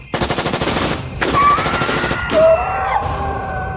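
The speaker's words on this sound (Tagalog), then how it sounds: "Sunod-sunod na putok ang pinakawalan ni Noel mula sa kanyang baril." M16 rifle gunfire as a story sound effect: loud close bursts of rapid automatic shots in quick succession, with short ringing tails between bursts.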